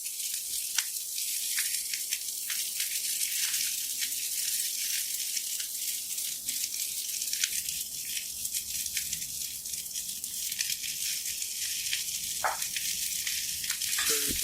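Broccoli rabe sizzles in a frying pan with a steady bright hiss of frying oil, faint clinks and rattles from the pan now and then, and no talk.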